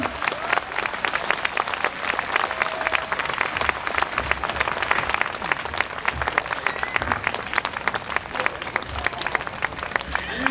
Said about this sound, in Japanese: 長い拍手お願いします